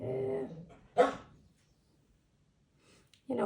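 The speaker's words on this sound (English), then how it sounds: "I'm sorry about the dog, she will bark." A dog barks a couple of short, sharp times indoors, mid-distance, between stretches of someone talking, with a quiet pause in between.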